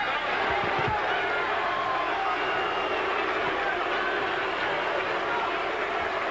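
A boxing arena crowd boos at a heavyweight bout between Tony Tucker and Oliver McCall, a dense continuous roar from a large audience that stays steady throughout, with a few faint thuds early on.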